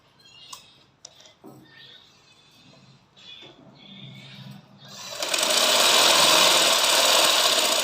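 Sewing machine stitching elastic onto a lehenga: a few clicks and short hand-adjustment sounds, then the motor starts and runs a loud, steady, close whirring stitch for the last few seconds.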